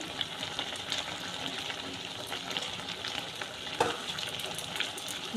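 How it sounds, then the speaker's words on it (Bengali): Egg curry bubbles and sizzles in a pan while a spoon stirs it through, a continuous moderate frying hiss with occasional louder scrapes and clinks. "ডিমগুলো মিশিয়ে ভালোভাবে নাড়াচাড়া করে দেব"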